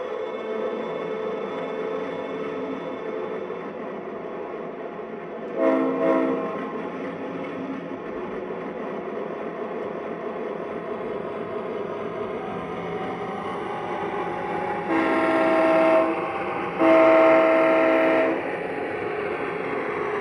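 An MTH Premier Chessie System U30c model diesel locomotive hums with a steady engine drone, broken by a short horn blast early on and two longer, louder horn blasts near the end, with no talking.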